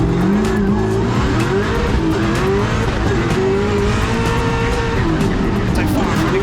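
A drift car in a Drift Masters competition round in Riga, Latvia, its engine revving hard under constant loud tire squeal and skidding, a dense unbroken roar with a commentator talking over it.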